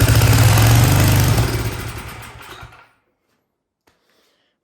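A salvaged junk small engine runs loudly at a rough, steady idle for nearly three seconds, then cuts out abruptly into silence, with a few faint clicks afterward.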